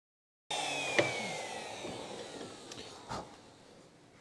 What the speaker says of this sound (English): using a plunge router to then set the depth and clean out the rest of the material